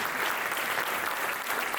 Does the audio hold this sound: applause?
yes